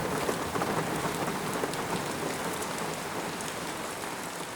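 Heavy rain pours down in Bavaria with a dense, even hiss of drops striking surfaces. It holds steady and loud throughout, with no voices.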